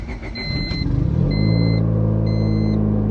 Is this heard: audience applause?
no